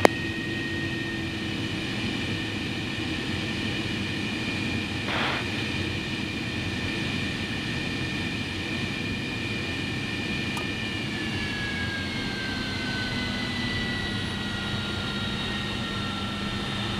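A MiG-23 Flogger jet engine while taxiing, a steady loud whine with a droning rumble underneath, heard from inside the aircraft, with the whine's pitch shifting slightly partway through.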